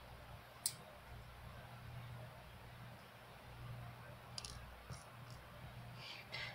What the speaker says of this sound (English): They make clicky noises when they hit the desk.